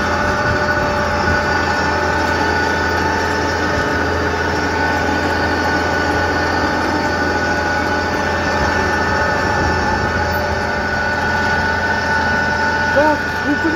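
A John Deere 6830 tractor pulling a Kuhn rotary harrow in a field preparing for sugar beets runs with a steady, loud mechanical drone and whine, heard from the cab with occasional speech.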